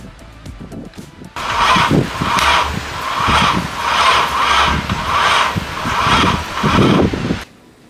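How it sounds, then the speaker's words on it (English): A Nissan 350Z with a swapped-in LS V8 cranks but fails to start: the starter churns in a steady rhythmic whirr for about six seconds, loud and close, then cuts off abruptly into silence. "We have ourselves a crank no start situation here."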